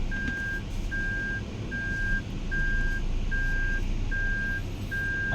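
Toyota Veloz reversing, a steady series of seven evenly spaced electronic beeps repeating under a low engine hum inside the car.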